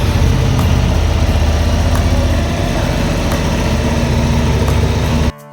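A Honda CB Hornet 750 with a 755 cc parallel-twin engine idles close by, a steady, throbbing low rumble that holds evenly for several seconds before cutting off abruptly.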